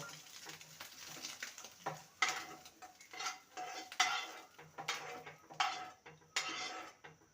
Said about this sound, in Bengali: ডিমের ভুজিটা রেডি হয়ে গেছে এবার একটু পাত্রে তুলে নেব